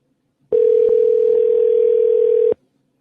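A single steady telephone tone sounding while a call rings out, unbroken for about two seconds, loud and close, then cutting off abruptly into silence.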